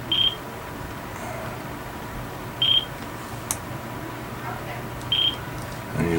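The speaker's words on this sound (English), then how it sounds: "you'll do that and it'll start beeping like that" An electronic device emits short high beeps during setup, three evenly spaced chirps about two and a half seconds apart, fairly clear over a low room hum with faint handling noise.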